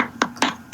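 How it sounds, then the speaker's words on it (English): Three sharp, separate hand claps spaced about a quarter second apart, close and fairly loud, with no talking between them. "Beth deserves a round of applause"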